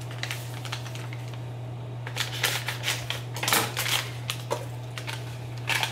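Kitchen scissors snipping and crunching during steak burrito prep, a run of sharp, close cuts that grows busier and louder in the second half, over a steady low hum.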